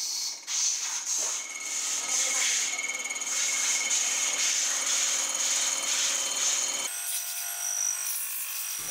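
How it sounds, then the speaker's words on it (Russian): A milling machine cuts the mating surface of a FOTON 1043 cylinder head, producing a loud, steady high-pitched whine and hiss with a few knocks at the start, then dropping to a thinner tone near the end. "Фрезерую ее на станке"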